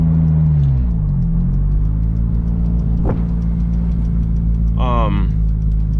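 Big-turbo Hyundai Genesis Coupe drives at low speed with a steady, loud mid-range engine drone and low rumble throughout, a brief rising whine near the end, and someone talking over it.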